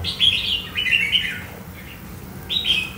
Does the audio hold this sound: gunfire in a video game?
no